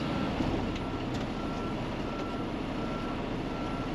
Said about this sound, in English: I don't know if I left myself enough room where I can back this up all the way without hitting the building.